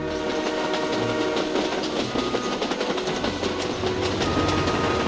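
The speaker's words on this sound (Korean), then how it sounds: "이번 역은 이 열차의 종착역인 고스트야, 고스트야 타운입니다" An animated train rolls into its terminal station in a ghost town, a dense continuous rumble of wheels and rattling cars, loud and close, with no voices over it.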